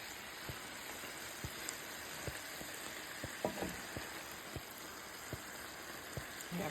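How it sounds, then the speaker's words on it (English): Cabbage and kielbasa frying in a big skillet give a steady, quiet sizzle with scattered soft pops and crackles spaced through it, close by and with no talking. "I got a big old skillet of cabbage"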